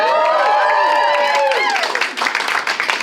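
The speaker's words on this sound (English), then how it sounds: "Let's have a round of applause for them" Wedding guests applaud a couple after a speech, a steady burst of clapping that rises as the speaker's voice trails off, with talk over the start.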